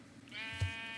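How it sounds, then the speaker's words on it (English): A sheep in the Minecraft video game gives a short bleat, one brief clear call heard alone and close up. "Yes, it's sheep."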